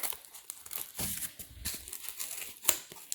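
Scissors cut through sheet material in a round shape for a sublimated sock pattern, giving a close run of irregular snips and crinkly rustling with no talk.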